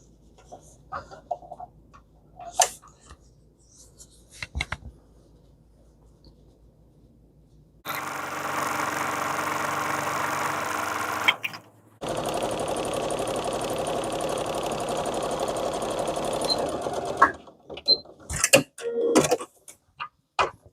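A sewing machine stitches a gardening apron in two sustained runs of steady, rapid whirring, separated by a brief pause, with quiet handling clicks and rustles of fabric before and after.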